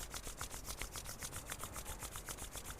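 Palms rubbed briskly together during a pranayama breathing practice, a steady close swishing friction repeated in quick strokes with no talking.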